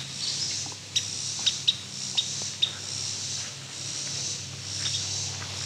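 Faint bird chirps sound in the distance over a steady hiss of outdoor ambience, with a few sharp short calls standing out.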